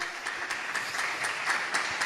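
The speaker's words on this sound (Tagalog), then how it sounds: "Palakpakan natin ng malakas na palakpak." A church congregation applauding loudly during a preaching service, dense sustained clapping from many hands with a steady rhythmic pulse, filling the room with no voices above it.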